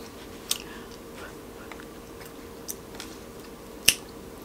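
Hot corn on the cob with hot sauce being eaten close to the microphone, three sharp crunchy bites spaced a second or more apart over quiet chewing.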